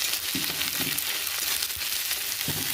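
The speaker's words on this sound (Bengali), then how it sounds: "দিয়ে মশলাটা ভালো করে কষিয়ে নেব" Ginger garlic chilli paste and tomatoes sauté in a pan for a brinjal and fish curry, giving a steady close sizzle with occasional stirring clicks and no talk.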